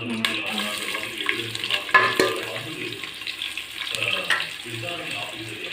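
Onions sizzle in ghee in a pan, with stirring scrapes and clatter over a steady frying hiss, while a voice murmurs faintly in the background.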